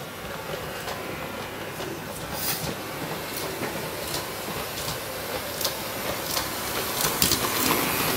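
An LGB model train locomotive pulling wagons runs steadily along its track, with light rhythmic clicking over the rails that grows slightly louder toward the end.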